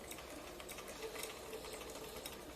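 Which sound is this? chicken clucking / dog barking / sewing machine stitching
sewing machine stitching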